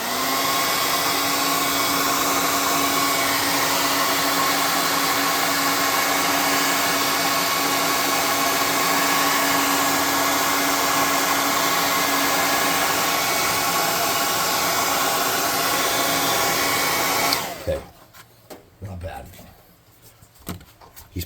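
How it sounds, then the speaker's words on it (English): A hot air gun blows steadily on a freshly painted miniature figure, a loud continuous whoosh that runs for most of the stretch and then cuts off, leaving quiet handling noises. "We'll hot air gun him real quick."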